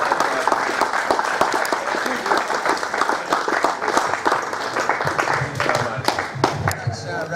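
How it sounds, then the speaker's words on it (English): A crowd at the Willetton District Cricket Club past players day presentation claps in a steady, dense round of applause that carries on without pause for several seconds. "If we can have a round of applause, that's great."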